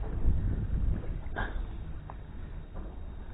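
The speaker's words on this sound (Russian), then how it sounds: "ветрище такой неприятный" Strong wind buffeting outdoors at a fishing spot, a low broad rumble of gusts against the microphone that swells early then eases, with a few faint knocks and no speech.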